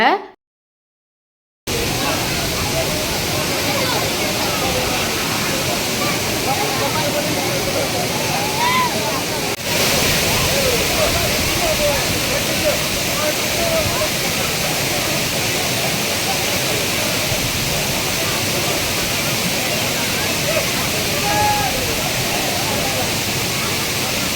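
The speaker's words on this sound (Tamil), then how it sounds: "அருவி ஆர்ப்பரிக்கிற சத்தத்தை கூட இந்த வீடியோவில் நாங்கள் போட்டிருக்கோம்" Roaring Thirparappu waterfall in Kanniyakumari: a dense, steady broadband rush of falling water, loud and continuous with no pauses, heard close up on its own.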